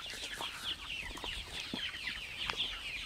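Chickens cluck continuously on a farm raising poultry in several barns, a dense, busy chorus of overlapping calls close by with no talk over it.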